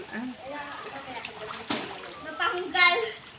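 Someone swimming during a swimming lesson makes soft splashes in the water, heard under children's and adults' voices calling out nearby.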